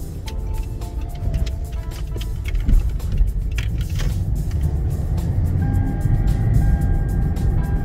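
A 2013 Kia Rio 1.4 engine hums steadily while driving, a loud low rumble with road noise and occasional small rattles throughout.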